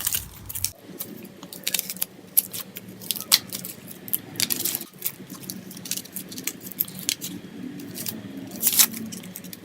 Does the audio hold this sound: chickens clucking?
no